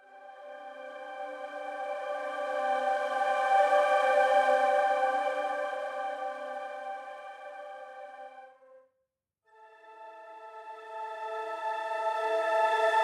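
Sampled woodwind ensemble from the Majestic Woodwinds library playing flutter-tongued sustained chords, a buzzy, rapidly fluttering tone that swells, fades and cuts off, then returns after a brief silence.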